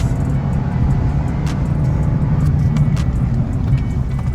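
An Abarth car's engine sounds loud and close, a steady low rumble and drone, with a few faint higher clicks scattered over the top and no talk.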